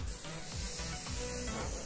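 Airbrush sprays a fine mist of paint onto a Ford Mustang hood, a steady, close hiss lasting the whole moment with faint tapping underneath.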